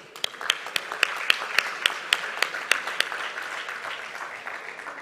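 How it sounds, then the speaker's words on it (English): At a corporate forum, a sparse round of clapping for the speakers begins with a dozen crisp, distinct claps in a loose rhythm, then thins into a quieter patter of scattered hands before fading. "let's give a big round of applause to all our eminent speakers today."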